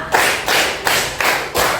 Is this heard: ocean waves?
no